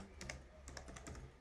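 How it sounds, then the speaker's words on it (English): Typing code on a computer keyboard produces a quick run of light, close key clicks at an uneven rhythm, heard alone over a faint background hum. "All right, so you type that code."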